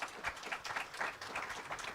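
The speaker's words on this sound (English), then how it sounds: "applause for the keynote speaker" Applause at a health policy conference for a keynote speaker, a steady wash of many hands clapping throughout, moderately loud and continuous from a seated audience.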